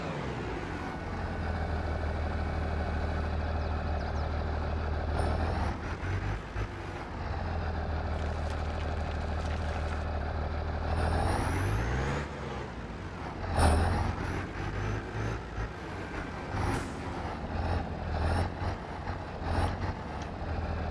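A truck engine in the Farming Simulator 22 video game drones steadily at a low, even pitch throughout, with occasional hissing bursts like air brakes over the top.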